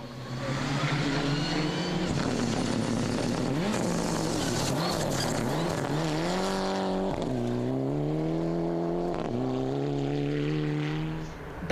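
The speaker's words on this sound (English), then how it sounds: "Back to the WRC cars" WRC rally cars race flat out on a stage at Rally Australia 2006, engines loud and close, revving and shifting through gears with rising and falling pitch, then passing by and fading near the end.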